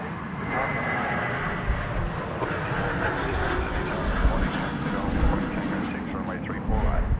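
Airliner landing at Sydney Airport, heard as a steady, loud, broadband jet-engine roar that holds throughout with slight swells, with no talk over it.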